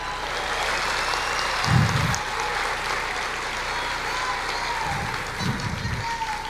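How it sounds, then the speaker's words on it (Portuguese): A church congregation cheers and applauds in worship, a steady wash of clapping from the whole room with low shouts and voices rising within it, sustained throughout. "Eu quero ver um grito de júbilo e uma salva de palmas para o Rei."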